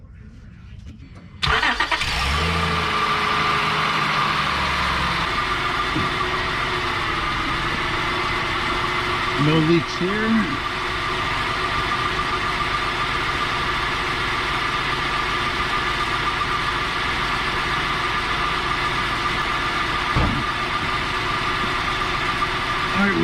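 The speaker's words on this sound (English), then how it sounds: "All right, guys, we're going to start the car up." A 2003 Honda Pilot engine cranks and catches after a second of quiet, then settles into a steady, close idle that continues throughout, with someone speaking briefly over it.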